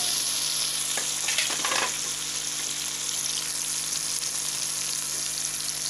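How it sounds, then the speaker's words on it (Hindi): Masala of tomato and ginger-garlic paste sizzles steadily in a pan for sarson ka saag, with a few brief scraping stirs early on and a constant close frying hiss throughout. "अच्छी तरह से मसाले को मिक्स करेंगे।"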